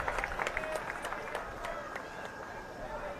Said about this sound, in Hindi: उसके लिए आप ताली बजाइए, आप ताली बजाइए